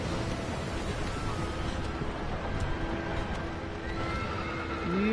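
A horse in Shadow of the Colossus lets out a whinny near the end over a steady rush of wind and ground noise, with hooves clip-clopping underneath throughout.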